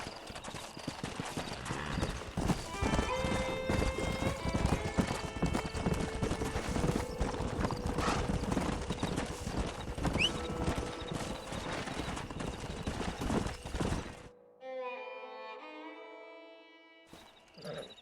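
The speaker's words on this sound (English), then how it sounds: "We got some fine horses." Horse hooves clip-clop steadily and loudly in a Western setting in Red Dead Redemption, with music underneath, followed near the end by a horse neighing and whinnying.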